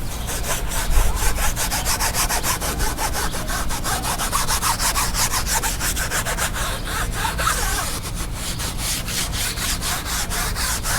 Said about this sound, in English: I'm scuffing it up with a maroon Scotch Brite